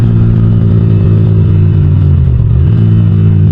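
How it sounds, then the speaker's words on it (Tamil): A modified aftermarket exhaust on a Yamaha R15 V4 rumbles loud and close with a deep steady drone, dipping briefly around a gear shift, with no voices. "கைஸ் கியர் கட்லாம் பண்ணும்போது பயங்கரமான ஒரு எக்ஸாஸ்ட் நோட் ஆக்சுவலாக வந்து கிடைக்குது நமக்கு"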